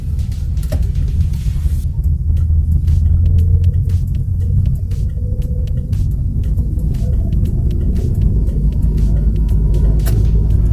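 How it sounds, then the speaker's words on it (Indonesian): Manual car engine rumbling steadily at close range while a car backs out of a home garage onto a main road, a continuous low drone throughout with no voices. "lepas gas full koplingnya, agak tinggi 2, buka kopling pelan, habisin kopling, sentuh gas, sen ke kanan"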